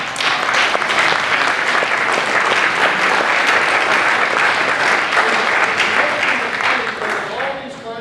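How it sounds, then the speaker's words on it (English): Sustained, loud audience applause at a corporate leadership summit after a card trick, with dense clapping filling the whole stretch alongside some voices, tapering slightly at the end. "Let's give her a big round of applause."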